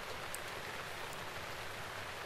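Steady, even rainfall in a Zelda video game, a continuous soft hiss of rain with no talk over it.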